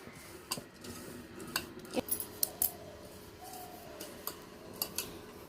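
Malpua batter of flour (maida), semolina, sugar and salt being mixed in a bowl, with light clinks and scrapes of a spoon against the bowl coming in scattered taps, faint and close.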